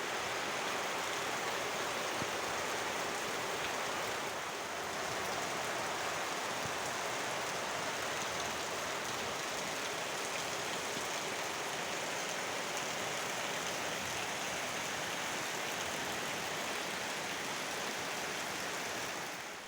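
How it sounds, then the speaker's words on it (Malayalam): Steady, dense hiss of rain pouring down without pause, loud and close, with no voices. "മഴ പെയ്ത് വരുവാണ് ഗായ്സ്"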